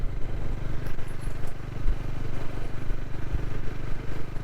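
A Bajaj Dominar 400 motorcycle of 400 cc engine size rides along, its engine giving a steady, close, rumbling drone with rhythmic low pulses and some road clatter, and no voices.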